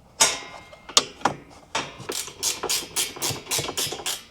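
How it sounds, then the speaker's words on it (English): A ratchet open-end wrench turns a fastener while a back seat delete is installed, with a few separate clicks at first and then a rapid, even run of close, loud ratcheting clicks. "use a regular open end and then a ratchet open end"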